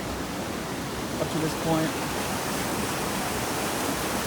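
Steady broadband roar of Spoon Creek Falls, a waterfall in Washington State, pouring into a rock crater; constant rushing water fills the scene with someone talking briefly over it.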